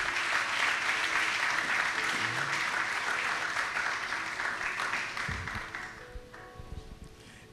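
A church congregation applauds with sustained, dense clapping for several seconds. The clapping thins and fades toward the end, and a few low voices come through near the close.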